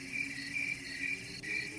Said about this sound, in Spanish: mientras un zumbido constante nos acompañaba, como si los insectos no dejaran de hablarnos al oído